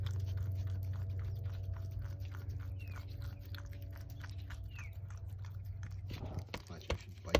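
An animal bites and chews peanut butter in close, rhythmic wet clicks and smacks, steady for several seconds over a low background hum, turning busier with a few louder crunches near the end.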